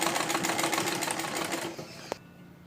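A sewing machine stitching a belt onto a salwar, running in a fast, continuous close-up whir of needle strokes that slows and stops near the end with a small click.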